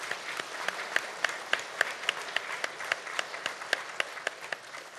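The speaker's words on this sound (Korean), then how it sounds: "큰 박수 부탁 올리겠습니다" An audience applauding at a resident self-governance convention ceremony in a large hall, with a sustained crowd clap and a few sharp individual claps standing out, moderately distant and steady throughout.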